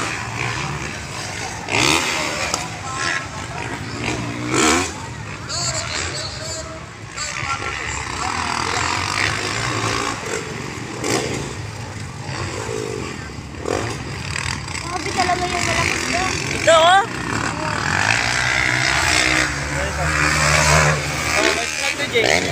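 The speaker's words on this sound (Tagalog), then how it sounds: "galupad ang mga motor!" Motorcycles rev and speed past one after another at a roadside gathering, their engines rising and fading between passes while onlookers chatter and shout throughout.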